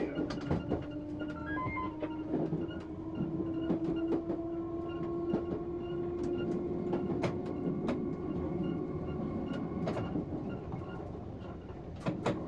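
Piccadilly line Underground train on the Acton Town to Uxbridge run, a steady loud rumble of running on track with a rising motor whine and sharp repeated clicks from the rails and joints throughout, no voices.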